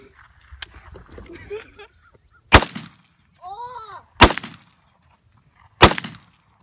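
Real guns fired outdoors at a range, three loud, sharp reports spaced a second or two apart, each with a brief echoing tail, with faint voices and a short whistle-like call between shots.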